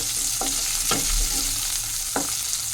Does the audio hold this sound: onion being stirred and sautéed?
yes